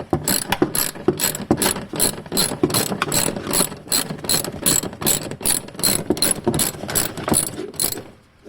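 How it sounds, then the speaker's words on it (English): Rapid ratchet clicking from loosening the middle seat belt bolt in a 1999 Honda Accord, a steady close-up run of sharp repeated clicks with brief pauses, no talking. "you're going to want to loosen this bolt with the ratchet"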